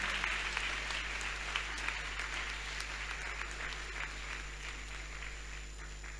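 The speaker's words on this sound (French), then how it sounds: "Acclame fortement Jésus." A church congregation applauds Jesus during a worship service, steady sustained clapping from many hands that fills the room at moderate distance, with occasional sharper claps standing out.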